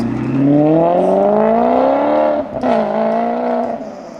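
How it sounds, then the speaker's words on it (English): A Maserati GranTurismo engine in Forza Horizon 5 revs up smoothly, its tone climbing through the gears with a brief dip before pulling strongly again, loud and close. "this is what the Maserati GranTurismo sounds like"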